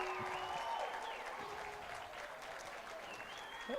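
Audience at a bursary awards ceremony applauding steadily throughout, a dense, sustained wash of clapping from a large crowd with faint voices mixed in.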